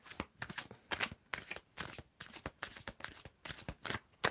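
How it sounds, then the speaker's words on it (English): Tarot cards being shuffled by hand in a rapid, steady riffling rhythm of repeated crisp bursts, close to the microphone with no talking. "So Diane, I want you to tell me when to stop shuffling."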